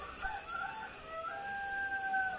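A rooster crows in long, drawn-out calls, moderately close, over a quiet background.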